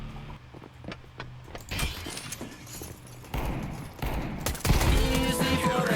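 Gunfire in Counter-Strike 2, scattered sharp shots and short bursts at mid distance, growing louder toward the end, mixed with other game noise.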